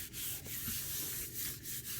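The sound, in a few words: burnishing paper onto gel printing plate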